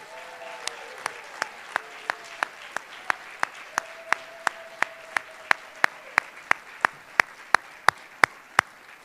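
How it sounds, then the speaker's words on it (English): At a Boston University Hall of Fame induction ceremony, the audience gives one more round of applause for the inductees. It comes through as sharp, evenly spaced claps that grow slightly louder, over a soft background hum with a faint tone. "One more round of applause."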